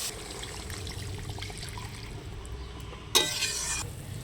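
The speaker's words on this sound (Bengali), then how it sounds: "এবার আমি জল দিয়ে দেব।" Water is poured into a pan of fried spices for a katla fish curry. After a low background sizzle, a sudden bright hissing rush breaks out near the end and fades over about a second.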